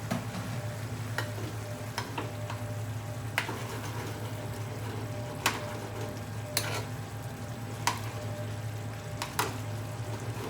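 Salmon and cherry tomatoes cook in a curry pan over medium-high heat, giving a low steady sizzle with occasional sharp clicks and taps of a utensil against the pan.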